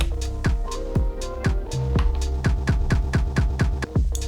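A beat pattern on a Roland SP-404 MK2 sampler plays through its DJ effects looper, a steady throbbing pulse of deep booming hits with a sustained tonal hum underneath and no talk.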